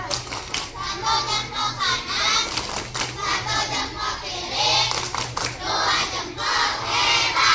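A group of elementary school children claps together in a quick rhythm while chanting loudly in unison, lively and close, with some voices shouting over the beat.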